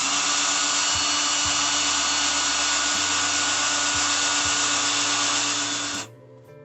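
A power drill runs at a steady, loud whir while driving a screw, with small pitch dips along the way, then cuts off abruptly near the end.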